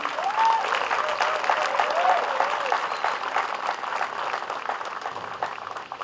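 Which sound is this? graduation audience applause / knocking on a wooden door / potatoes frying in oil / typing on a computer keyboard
graduation audience applause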